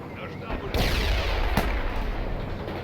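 Battle gunfire in the real-time strategy game World in Conflict: a sustained roar of rapid shots and heavy blasts, with one sharp loud crack partway through, over low rumbling and faint radio voices.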